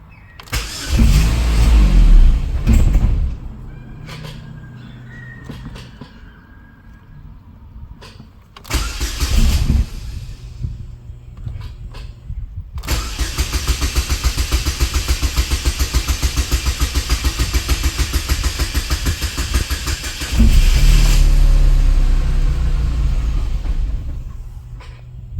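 An Opel Astra G SRI with a Z22SE engine revs loudly in surges at close range, drops back to a rough idle, then rises again before cutting out as the engine stalls.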